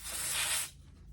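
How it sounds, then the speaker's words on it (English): A short, sharp hiss of brake cleaner sprayed from an aerosol can onto a Yamaha outboard tilt-trim part, close and loud for about half a second before cutting off. "I am going to clean it out with some brake cleaner"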